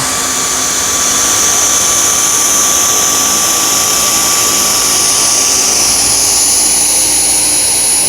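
A Dyson V10 cordless vacuum cleaner runs on a matted rug with a steady, loud high-pitched whine and airflow roar that holds constant throughout, with no voices.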